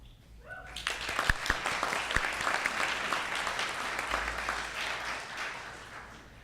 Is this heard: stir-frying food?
no